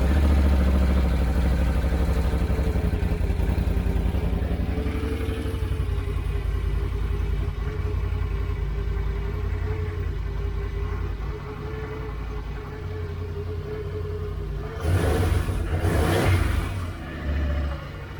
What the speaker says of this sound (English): I'm gonna start with just a factory exhaust,